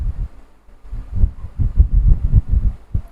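A sewing machine stitches fabric along the edge of a kurti or suit piece, making a close, rhythmic low mechanical throbbing in uneven bursts with short pauses between runs.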